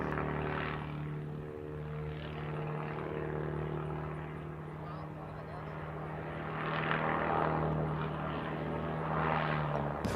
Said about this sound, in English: as he uses the torque of the engine and the Cincinnati propeller to rotate around in just one spot in the sky